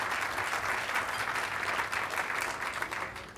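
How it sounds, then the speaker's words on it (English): A crowd at a presidential inaugural speech applauds a mayor from Salt Lake City, a dense, steady wash of clapping lasting the whole few seconds, slightly distant. "Give a round of applause for Mayor Becker from Salt Lake City."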